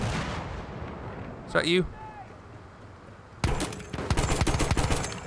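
Gunfire from the video game Battlefield 1 beta: a voice talks over steady game noise, then rapid, loud bursts of shooting crackle close by through the final two seconds.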